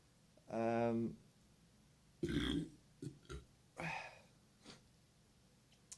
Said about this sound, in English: If I burp, it's a sign of a good ale.